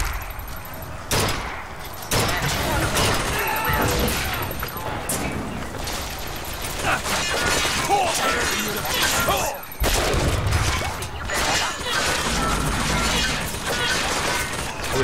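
Loud, dense gunfire bursts and rattles almost nonstop in Bioshock Infinite, with clattering mechanical shots and a few brief gaps. Voices are mixed in with the battle.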